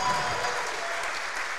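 Crowd applause after a weightlifter's clean lift at the men's 73 kg Asian Weightlifting Championships, dense steady clapping in an arena, loud and sustained, with a commentator's voice over it.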